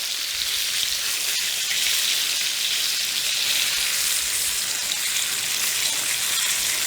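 A steak searing in a hot cast iron skillet gives a steady, dense sizzle and crackle, loud and close, holding evenly throughout with no voices.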